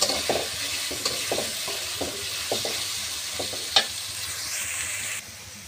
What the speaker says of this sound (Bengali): কড়াইতে তেল দিয়ে কাঁচামরিচ, পেঁয়াজ কুচি দিয়ে দিয়েছি।